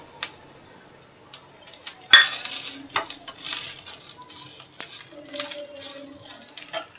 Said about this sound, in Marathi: आता आपण तीळ टाकून घेऊया